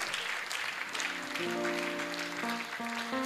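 Clapping from a church audience at a birthday public lecture, a broad steady patter of many hands running throughout beneath sustained organ or keyboard chords.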